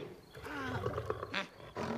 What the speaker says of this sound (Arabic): صوت الأسد كما تعلم يقال له زئير